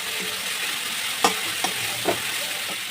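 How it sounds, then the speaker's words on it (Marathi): Onion with ginger-garlic paste fries in a pan, a loud steady sizzle filling the scene, with a few sharp scraping stirs of the spoon breaking through the hiss. "अद्रक लसूणची पेस्ट टाकायची कांदा पूर्ण लाल परतून द्यायचा आहे"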